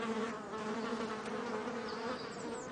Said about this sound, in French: Le frelon est vite submergé d'abeilles.